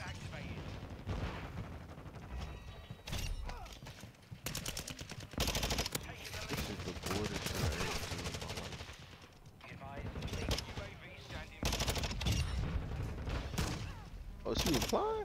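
A teammate fires a Vaznev-9k in a video game: loud, rapid bursts of automatic gunfire come in dense, stuttering volleys with brief gaps, mixed with other game noise.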